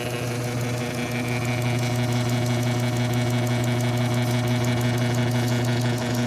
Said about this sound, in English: maybe even go all the way to polish in this watchmaker's lathe